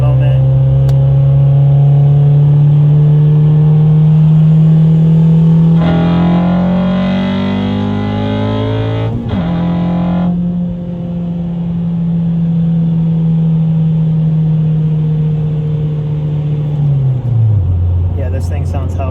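A boosted 9th-generation Honda Civic Si engine pulls in third gear with a loud, steady drone whose pitch climbs gradually, then dips briefly and drops off near the end.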